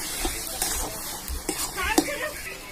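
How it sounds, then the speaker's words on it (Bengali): Boiled vegetable curry with fried garlic sizzles in a frying pan as it is stirred, with soft scrapes and light knocks of the spoon over a steady hiss, up close. "এরপর তরকারি নাড়াচাড়া করে নামিয়ে নেবো"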